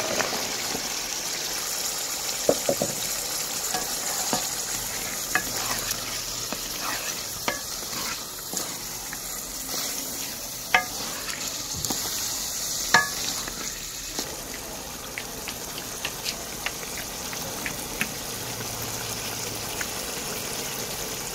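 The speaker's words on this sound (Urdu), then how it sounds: "ساتھ ساتھ ہلاتے رہنا تاکہ نیچے نہ لگیں" Peas frying in a pan as they are stirred to keep them from sticking, with a steady hissing sizzle and occasional sharp scrapes and taps of the spoon, close and continuous, no speech.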